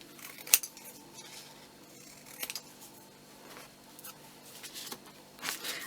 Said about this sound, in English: I'm going to cut this down a bit.